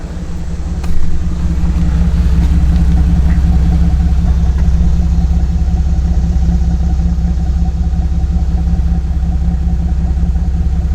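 A 2006 Jeep TJ Rubicon engine, recorded right at the exhaust, idles loudly and steadily, a deep throbbing rumble with a brief rise near the start, then an even drone throughout.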